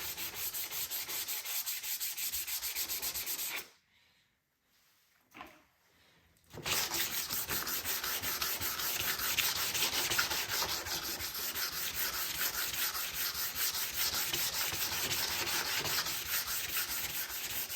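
Sandpaper of 400 grit rubs back and forth over the plastic of a wrecked 2022 Polaris Sportsman 450 HO ATV, a close, steady scratchy hiss that stops for about three seconds and then resumes, continuous and brisk.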